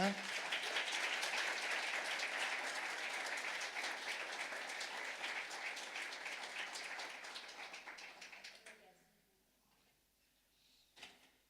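A church congregation applauds in a sustained burst of clapping that carries steadily for several seconds, then thins and fades out, followed by a brief knock.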